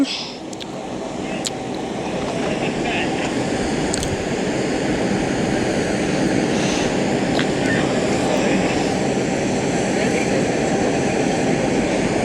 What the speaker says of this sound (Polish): Hmm, co to by było za pociąg?